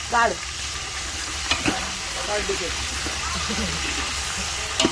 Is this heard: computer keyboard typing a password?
no